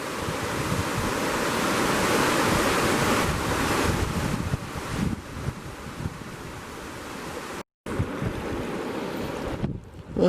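Strong wind gusts roar steadily across a gravel bar at a riverside camp on the Cispus, a loud, rushing blast with rougher buffeting surges and one brief dropout near the end.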